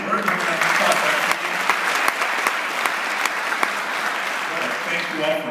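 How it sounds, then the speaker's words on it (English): Steady, full applause from an audience at a community empowerment summit, sustained and fairly loud with occasional sharper individual claps standing out. "I want to give her a round of applause."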